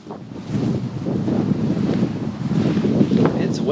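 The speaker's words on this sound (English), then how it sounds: "It's windy today." Steady gusting wind buffets the microphone outdoors, rising and falling in a continuous rumbling roar.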